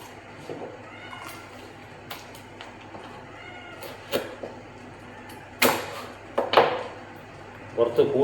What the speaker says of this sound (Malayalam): ഞാൻ പൂച്ചയുടെ വിളിക്കുന്നത് കേൾക്കുന്നുണ്ടോ?